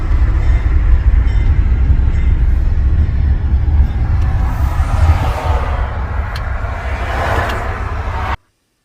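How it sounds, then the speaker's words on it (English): A passenger train rumbles past close by, a steady heavy roar of wheels and cars with metallic clatter, cutting off abruptly at the end. "It's just a passenger train."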